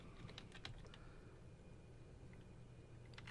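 Quick, light keystrokes on a computer keyboard while HTML code is entered, a short burst of clicks at the start and a few more at the end over a steady low hum.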